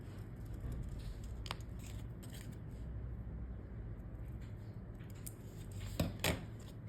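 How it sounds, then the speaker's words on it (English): Scissors cut a screw flap out of a paper box, quiet close snips spread over several seconds with a few sharper clicks and rustles near the end. "first you need to cut this screw flap out"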